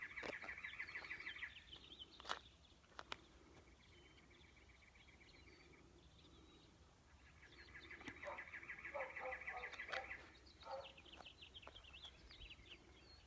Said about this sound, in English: the Cactus Wren is the only bird that we are hearing right now